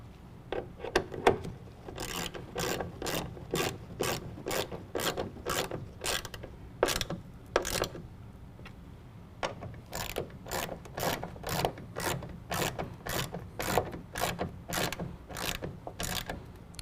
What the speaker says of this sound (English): Start those by hand, and then we can go back and tighten them up.